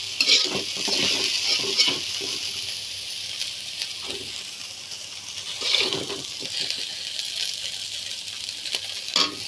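A vegetable bhaji fries in a pan under a bright, continuous sizzle. A spoon stirs and scrapes it in irregular bursts, with occasional clinks of utensil on metal, close by and with no speech.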